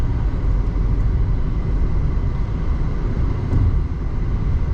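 A white 2014 Jeep Cherokee Latitude with 90k miles drives along, a steady, loud low rumble of engine and road noise heard from inside the cabin without voices.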